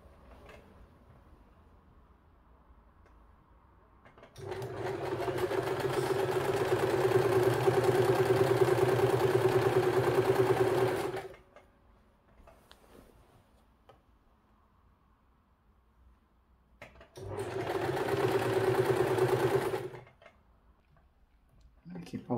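A sewing machine runs a web-like decorative stitch in two bursts, a long steady run of about seven seconds and a shorter one after a pause, loud and close with a mechanical hum.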